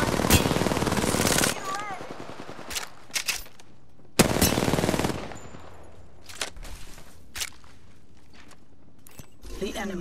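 Gunfire in the video game Apex Legends: loud bursts of rapid automatic fire up close, broken by quieter gaps with scattered single shots and mechanical clicks, while game voices speak over it.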